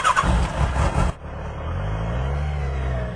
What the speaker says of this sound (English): Turn the key, like a motorcycle. Clutch, start.